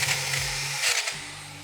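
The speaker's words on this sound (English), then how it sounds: "This is a 40 grit sanding wheel." An angle grinder fitted with a 40-grit sanding wheel whines at steady speed, then bites briefly into a box with a rough, gritty burst before spinning on.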